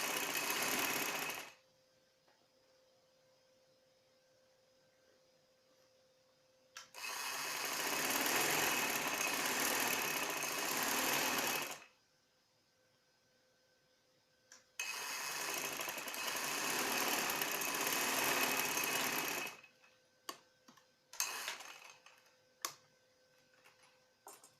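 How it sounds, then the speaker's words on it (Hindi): Sewing machine stitching the side seams of a cotton baby frock, running in three long steady bursts of whirring stitches with pauses between them, then a few short taps at the end, close and clear with no talk. "अब हम इस फ्रॉक की साइड की सिलाइयाँ लगाएंगे"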